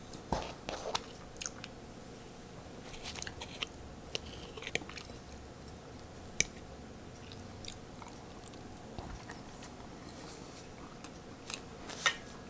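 Someone chews a bite of moist, light war cake with raisins, a Depression-era cake made without butter, in soft irregular crunches and squishes up close, with no talking.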